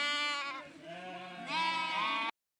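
Sheep and newborn lambs on a farm bleat loudly and close by, two overlapping wavering cries running back to back before cutting off abruptly.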